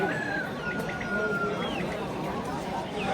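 Chickens and roosters at an open-air poultry market, scattered clucks and short calls over a busy crowd murmur, with people talking nearby.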